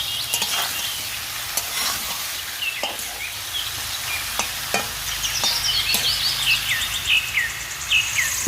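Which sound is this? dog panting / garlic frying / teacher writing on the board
garlic frying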